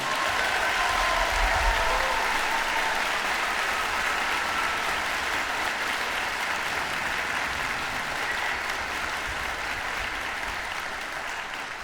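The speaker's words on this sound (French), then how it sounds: "On peut leur donner une grosse main d'applaudissements, tout le monde" A large hall audience gives a concert band, a community wind ensemble celebrating its 35th anniversary, a loud, sustained round of applause that stays dense and even throughout before easing slightly at the end.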